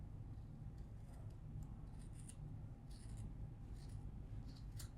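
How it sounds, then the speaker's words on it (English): Scissors snip through yarn loops, making soft, faint cuts over a steady low background hum; no one speaks. "we're just going to trim right through the middle"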